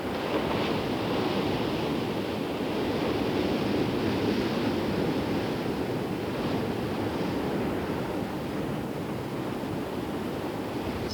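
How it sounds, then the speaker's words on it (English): Big Indian Ocean swell breaks in foam among the rocks of a rugged coastline, a loud continuous roar of surf with wind buffeting the microphone. "this huge swell that rolls in out of the Indian Ocean to break in foam among the rocks of this rugged coastline"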